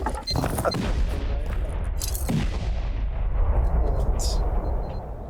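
A rocket-launcher assault during a raid on a cave base in the game Rust, heard as dense, loud, continuous booming and crackling blasts that roll on for several seconds, with voices partly buried beneath.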